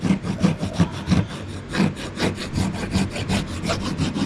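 Rough sandpaper rubbing back and forth over a hand-carved wooden wand, loud, close strokes in a steady rhythm of about three per second, with no speech.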